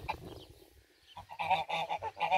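Geese at a pilgrims' hostel on the Way of St. James between Frómista and Carrión de los Condes give a quick run of loud, nasal honks from close range after a short pause, with no talk over them.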